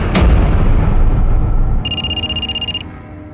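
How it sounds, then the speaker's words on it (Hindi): A landline telephone rings in a repeated electronic trill for about a second, following a loud low thud, with a steady rumbling background underneath in a crime drama scene. "सर, नवीन का फोन बज रहा है।"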